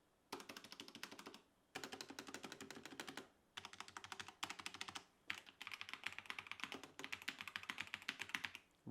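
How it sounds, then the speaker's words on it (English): Typing on a stock budget mechanical keyboard, a dense clatter of rapid keystrokes in several bursts separated by short pauses, close and clear with no talking. "So let's get a sound test of the stock one and then the modded one."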